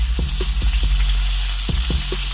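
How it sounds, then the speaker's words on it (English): Tomatoes still on the vine sizzle in a frying pan for an Irish breakfast, a steady close hiss broken by soft pops and crackles, with no voices. "I'm going to drop some tomatoes"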